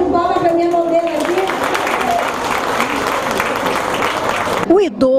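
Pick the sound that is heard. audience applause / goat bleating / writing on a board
audience applause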